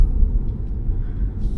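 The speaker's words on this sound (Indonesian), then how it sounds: "Ini kecepatan gue baru 40 km per jam, tapi gerungan ban itu masih kedengeran banget" A BMW 330i G20 rolls at 40 km/h, its tires producing a steady low road roar and rumble inside the cabin, continuous and moderate with no voices.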